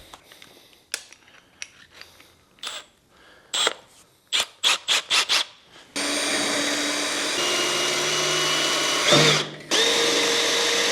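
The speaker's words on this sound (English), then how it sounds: "we're gonna get out some drill bits. Let me find my gun." A power drill whirs in several short bursts, then runs continuously at a high-pitched whine for several seconds, briefly cutting out before resuming, while working on a Datsun 280Z.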